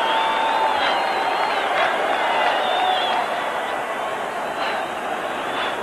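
Rugby World Cup crowd in 1995 roaring after Japan score a try against Ireland, a broad, sustained stadium cheer with whistles rising above the din, fading slightly toward the end.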